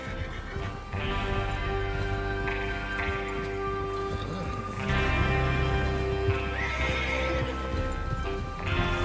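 In the video game Red Dead Redemption 2, horses whinny and neigh repeatedly over a steady background, with hooves clip-clopping along; no one speaks.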